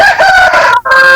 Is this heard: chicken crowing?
yes